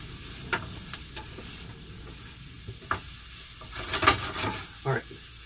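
Onions for pumpkin risotto soften in a pan with a soft, steady sizzle. Scattered stirring scrapes and clicks come through, and a denser cluster of clatter arrives near the end.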